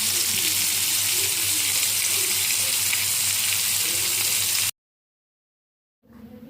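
Tandoori prawns frying in a pan on a gas stove, giving a close, steady sizzling hiss for about four and a half seconds before cutting off abruptly into silence, then briefly returning at the end.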